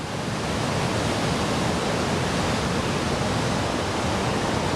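Big surf rolling in at Hilo, Hawaii gives a dense, steady roar of crashing waves that fills the whole stretch without a break and has no voices.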